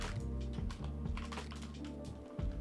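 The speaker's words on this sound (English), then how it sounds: "the keyboard sounds good already" Keyboard keys clatter in a quick, uneven run of close clicks, with a steady low hum underneath.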